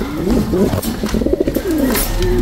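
Pigeons coo at a farm, with several close, loud, rolling coos overlapping in a throaty rhythm over a low background.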